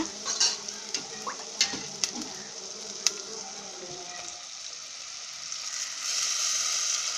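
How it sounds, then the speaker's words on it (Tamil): Masala frying in oil in a clay pot as tamarind water is poured in, a bright hissing sizzle with a few sharp clicks and stirring knocks, rising into a louder, steadier bubbling hiss near the end. "இப்போ நம்ம புளிக்கரைசலை இதோட ஊற்றிடுங்க"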